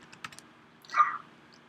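A few soft keystrokes tap on a computer keyboard, quiet and close, with a brief rustle in the middle and no talking.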